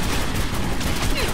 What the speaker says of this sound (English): Please stop shooting at me.